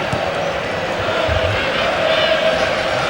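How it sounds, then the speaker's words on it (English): Football stadium crowd at a 2000–01 UEFA Cup match between Barcelona and Liverpool, a constant loud wash of chanting and murmuring spectators filling the background with no distinct break. "Crowd have picked up the tempo, which rather dragged as half-time approached"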